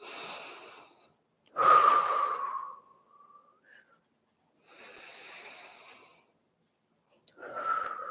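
A person doing chair yoga takes deep, audible breaths, with a few breathy inhales and exhales a couple of seconds long, close and fairly loud, separated by silent pauses.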